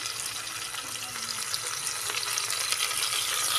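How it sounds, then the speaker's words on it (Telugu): Fenugreek and coriander leaves fry in a pan for a mutton dish, giving a steady soft sizzle that grows slightly louder toward the end. "కొంచెం వేగనిద్దాం వీటిని"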